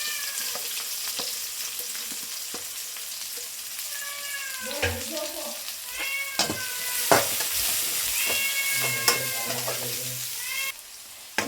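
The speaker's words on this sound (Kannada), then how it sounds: "ಮೆಣಸಿನ್ಕಾಯಿ ಫುಲ್ ರೋಸ್ಟ್ ಆಗಿದೆ. ಆನಿಯನ್ ಹಾಕ್ತಾ ಇದ್ದೀನಿ." Sliced onion drops into hot oil after green chillies have roasted, giving a steady crackling sizzle with stirring scrapes, while a cat meows several times close by.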